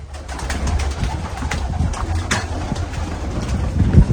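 Several pigeons coo in low, rolling calls close by while being fed grain, with light fluttering and pecking noises underneath.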